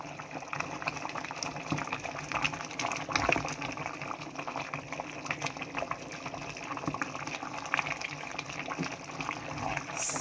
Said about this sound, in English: we are going to give this a good stir.